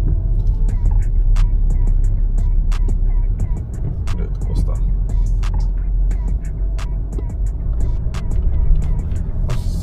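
A car drives slowly along a narrow road on an island, its engine making a steady low rumble with light rattles and clicks throughout, and a loose fender can sometimes be heard.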